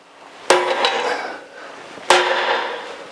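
Two sharp metal hammer strikes, about one and a half seconds apart, marking alignment on the clutch assembly of a 1982 Jeep CJ7, each ringing briefly in a quiet workshop.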